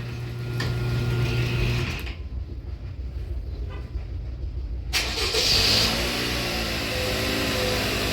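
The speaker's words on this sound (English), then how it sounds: "it turned on the car, and I'm ready to go" A 2019 Toyota RAV4 starts by remote start inside a garage with the door open: steady mechanical hum, a brief quieter pause, then the engine catches and settles into a loud, even idle nearby.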